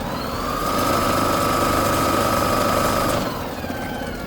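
An electric scooter's hub motor, driven by a 2000 W, 80 A controller, spins its wheel with a steady, fairly loud electric whine that holds for about two and a half seconds before cutting off.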